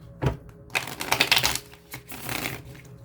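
Tarot cards being shuffled close up, a quick riffle of papery flutters and slaps lasting a couple of seconds, with no talking.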